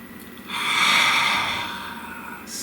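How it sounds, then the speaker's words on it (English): One slow, deep breath is drawn in and then released, close and clear, swelling and fading over about two seconds in a quiet room. "Please take a nice deep breath."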